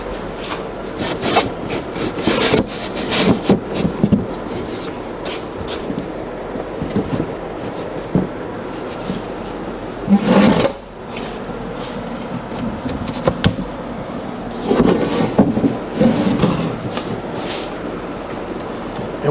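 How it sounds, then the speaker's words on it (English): Plywood sliding into wooden boxes for a mobile kitchen island, repeated scraping and rubbing of wood on wood in uneven strokes with knocks and bumps, close and fairly loud. "Now it's just a question of sliding my plywood"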